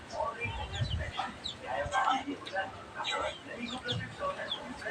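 Chickens cluck repeatedly at close range, with soft voices talking quietly underneath.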